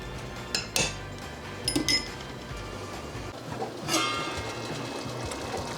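A lid lifts off a pot of 1970s-style tamale pie, giving a few light metallic clinks and taps at close range over a low background hum, with no voices.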